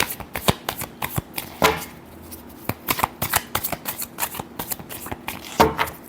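Tarot cards are shuffled by hand in a quick run of crisp riffles and soft slaps, close and steady, with no talk.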